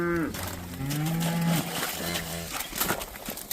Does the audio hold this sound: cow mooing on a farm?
yes